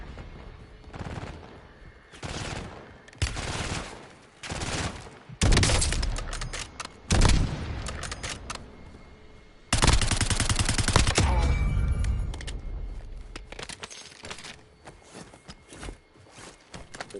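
Submachine gun fire in a multiplayer shooter video game, several loud automatic bursts of varying length separated by short pauses, with one long sustained burst in the middle and faint background game noise.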